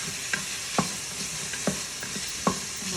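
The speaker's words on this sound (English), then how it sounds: "we're gonna saute our onions and our garlic" Onions and garlic sauteing in oil in a pan, with a steady soft sizzle and a few sharp scrapes and knocks of stirring spaced through it, close up and alone without any talk.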